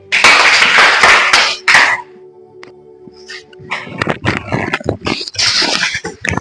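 Loud applause from a group of people, a burst of clapping that pauses briefly, then starts up again and continues to the end.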